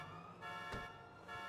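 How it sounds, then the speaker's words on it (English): Car alarm in the video game GTA V, a continuous tonal electronic wail with steady harmonics, heard faintly and without pause across the short span. "All right, I'll wait for the alarm to stop, I think, actually."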